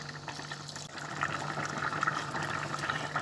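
Water poured into a pea and potato tagine with carrots and lamb as it cooks, a continuous splashing and gurgling fill close by, growing slightly louder over a few seconds.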